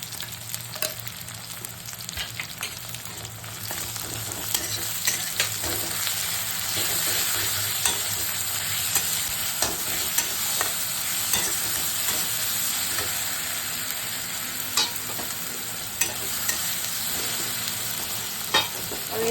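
Ginger and green chili paste fries in a pan for a Bengali mixed vegetable curry, with a steady, close sizzle and spatula stirring scrapes running throughout, no talking.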